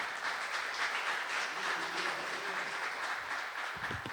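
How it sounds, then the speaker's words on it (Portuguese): A church congregation applauds during an evening worship service, a broad steady wash of clapping filling the room at moderate volume. "Vamos aplaudir ao Senhor."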